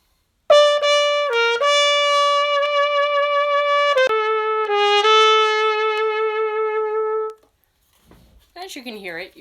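A trumpet fitted with a mute plays a phrase in a dark, muffled tone, sustained notes running steadily for about seven seconds before a brief stretch of talk at the end.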